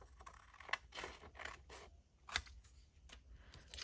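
Scissors snip through paper in a few quiet, scattered cuts, with soft rustling between them in an otherwise hushed room.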